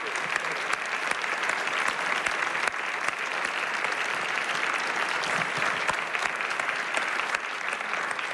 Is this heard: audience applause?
yes